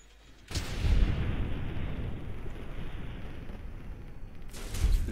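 A sustained roar of rapid gunfire and blasts in Fallout 3, dense and loud, running for several seconds with short gaps at the start and end.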